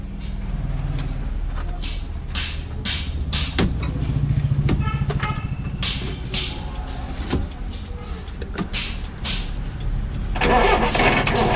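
An SML Isuzu tourist bus diesel engine cold-starts after repeated cranking, sputtering and catching in rough bursts, then settling into a loud, uneven idle close by.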